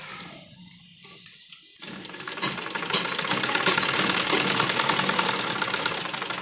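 A sewing machine runs steadily along the edge of a neckline on a child's umbrella frock, starting abruptly after a short quiet stretch and then holding a loud, continuous whirring stitch to the end.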